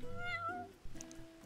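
A cat meows inside a video game, a clear rising and falling meow that is followed by softer game sounds and a brief thump.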